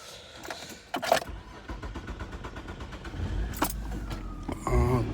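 A 1995-99 Nissan Maxima starting up nearby: a brief crank and catch, then a steady idle rumble, with a jingle of keys at the start and a rising engine surge toward the end.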